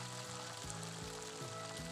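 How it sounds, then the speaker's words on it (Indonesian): Quiet, continuous sizzling of tofu frying in hot oil, a soft crackling hiss with faint bubbling. "Ini kita goreng sampai kering"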